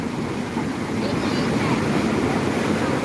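Continuous close roar of big sea waves crashing and churning during a storm, loud and unbroken, with wind rumbling across the microphone.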